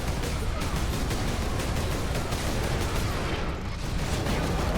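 Dense, continuous gunfire from a battle in the Warhammer 40,000: Space Marine video game, loud and unbroken bursts blending into a constant roar with a brief dip near the end.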